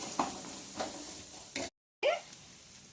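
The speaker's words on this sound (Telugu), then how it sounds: "పచ్చివాసన పోయేదాకా వేయించుకుందామండి." Carrot and curry leaves stirred in a hot pan for egg fried rice, giving soft intermittent sizzling scrapes with a brief silent gap before a louder stir.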